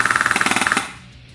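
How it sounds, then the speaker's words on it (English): An airsoft AEG rifle fitted with an ROA spring guide fires a short full-auto burst, a rapid, even mechanical rattle of about fifteen shots close by, then cuts off and leaves a faint hum. "Let me do a full auto rate of fire,"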